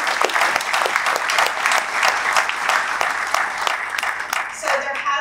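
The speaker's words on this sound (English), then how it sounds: "a round of applause for everything you do" Sustained applause from an event audience, honoring service providers at a poll launch on homelessness in Orange County; dense, even clapping fills the whole stretch without any talk over it.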